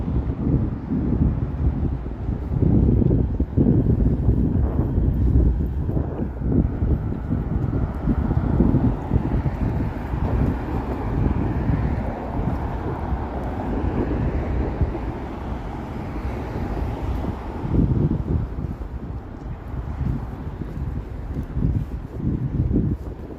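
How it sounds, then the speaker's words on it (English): Wind buffets a microphone outdoors on a downtown Toronto street during rush hour, a steady low rumble with gusts that swell and ease throughout, loud and close with faint traffic underneath. "it's a bit breezy depending on which direction I'm walking"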